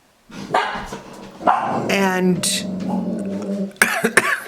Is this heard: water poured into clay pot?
no